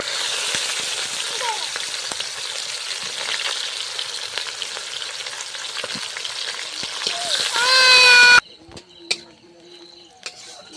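Dried red chillies and bay leaves frying in hot oil in a pan, a loud, close, continuous sizzle with stirring scrapes that swells near the end, then cuts away to quiet clinks and faint speech.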